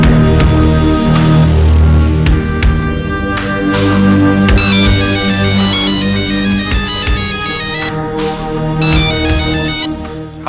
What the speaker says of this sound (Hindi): सुनीता, तुम्हारा फोन है भाई।